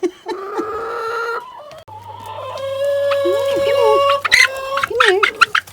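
Backyard hens cluck and squawk loudly up close in a snowy winter coop, with several overlapping calls and a rising, agitated cackle, while someone talks to them.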